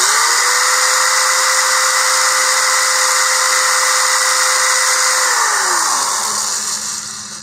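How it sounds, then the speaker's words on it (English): An electric drill with a 1/8 inch bit bores a hole in a model rocket tube, whirring steadily at high speed for several seconds, close and loud, then winding down as the motor slows to a stop. "I've got a 1/8 inch drill bit in here, and I'm going to hold this"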